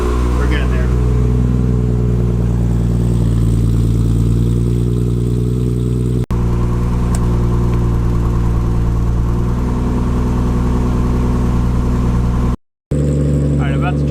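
An RB25DET engine in a Nissan 240SX S14 idles loudly and steadily nearby as it warms up, a deep, even rumble that continues almost uninterrupted, with one brief dropout near the end.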